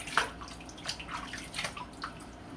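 Running water rinses shave soap off, a faint, thin splashing and trickling at close range with scattered small drips over a quiet background.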